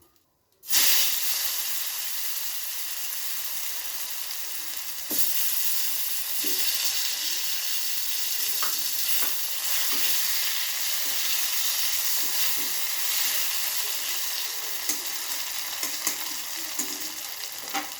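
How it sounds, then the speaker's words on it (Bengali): Potatoes and eggplant sizzle loudly in hot oil close by, in the oil just used to fry fish, the frying growing louder partway through, with occasional pops and stirring clicks. "এখন আমি আলু বেগুনটা এই তেলে ভেজে নেব"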